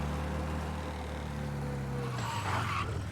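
A steady engine drone from a car in Mafia: Definitive Edition, a low humming tone that holds, then drops in pitch near the end as another mechanical hiss rises, with no one speaking.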